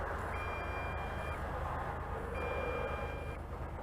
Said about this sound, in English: It just initiated the second stage of low voltage by longer beeps.